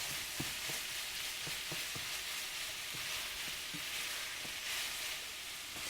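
Frozen snow peas hitting hot oil in an almond chicken stir-fry, a steady, faint sizzle with scattered small crackles and pops, no talking.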